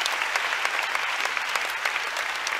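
A church congregation claps together in a sustained, even round of applause, dense and close, with no talking over it.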